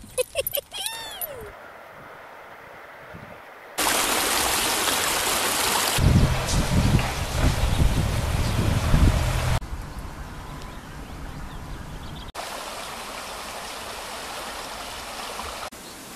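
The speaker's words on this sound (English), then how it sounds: "You can hear the rush of the water." Rushing river water near a small bridge on a Cornwall trail, a steady broadband wash that surges loud in the middle stretch before settling back to a continuous, fairly close flow, with brief sharp sounds at the start.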